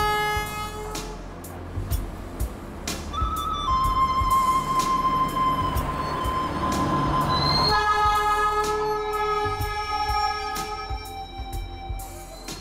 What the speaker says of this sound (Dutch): vertrekt de trein voor de urenlange reis de bergen in